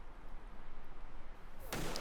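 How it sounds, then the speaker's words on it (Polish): A single loud rifle shot cracks near the end, fired as a control shot to check reticle zeroing on a rifle fitted with a Pulsar DIGEX C50 digital night-vision scope, preceded by a low steady background hum. "Wykonaj strzał kontrolny, aby sprawdzić poprawność ustawienia siatki."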